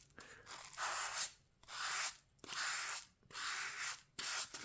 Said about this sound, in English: So if I'm carving this, I mean like sanding this around here, you can sort of see it sort of like form around it.